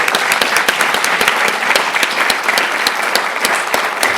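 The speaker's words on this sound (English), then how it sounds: "I'd just like to start a big round of applause for our brilliant writers" Loud, dense applause from an audience at an awards ceremony for radio and television programmes, many hands clapping steadily and close for several seconds with no voices over it.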